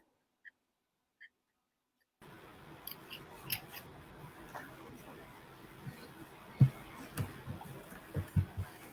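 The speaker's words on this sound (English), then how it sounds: "So we're just going to cut along the lines." Scissors cut through paper along drawn lines for a Father's Day craft, giving a run of close, irregular snips after a brief quiet start.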